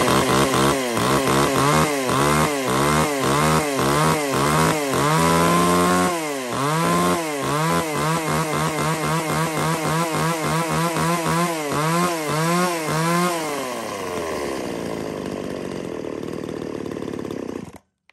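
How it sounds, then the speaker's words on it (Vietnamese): A small Hitachi chainsaw for home firewood cutting runs loud and close for about eighteen seconds, its engine rising and falling in rapid revving pulses, then settling to a steadier drone before cutting off at the end. "một con máy cưa nhỏ gọn phục vụ cho các bác về sử dụng gia đình cắt củi nấu rượu"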